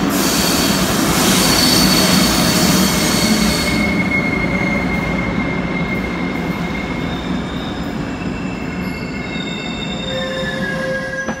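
A Vienna subway train runs loudly with a steady rumble and high metallic wheel squeals, the roar easing slightly as it travels on.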